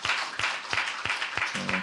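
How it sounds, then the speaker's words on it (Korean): Church congregation applauding after a hymn at a Sunday service, a full round of clapping with rhythmic pulses, as if clapping in time, under a faint hum near the end. "우리 박수 한번 하겠습니다."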